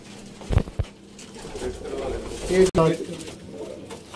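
Pigeons kept for sale in Sialkot coo softly and nearby in a couple of low, throaty phrases, with faint muffled voices and room noise in the background.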